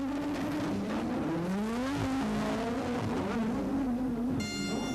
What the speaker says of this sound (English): at the same time as Boutsen, and they rocketed out of the pits together, but with the Ferrari now ahead.